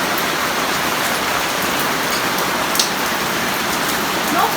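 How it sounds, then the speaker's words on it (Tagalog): Heavy rain pours steadily in a dense, unbroken hiss, loud and close, with no voices. "Usog na kayong ulan."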